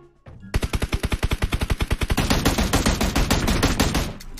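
In a video game, a rapid burst of loud gunfire hammers out in quick rhythmic succession, then blurs into a dense, continuous roar of shots without speech.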